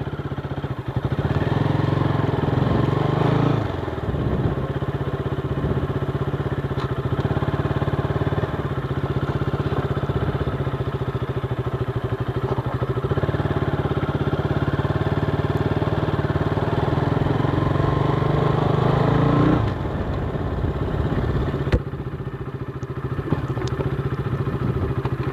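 A KTM RC 200 BS3 motorcycle engine runs close by at a steady, loud idle with a mechanical clatter, its tone shifting briefly toward the end.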